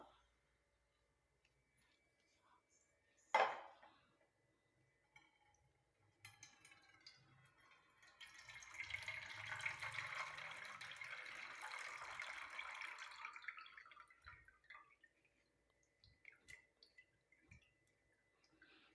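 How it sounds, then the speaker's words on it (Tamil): Juice from a ground guava leaf paste drips and trickles through a strainer into a bowl. The soft, continuous flow runs for several seconds and fades, with a sharp knock and faint clicks around it. "ஒரு பவுல் எடுத்துகிட்டு நீங்கள் அதை வடிகட்டி எடுத்துக்கலாம்"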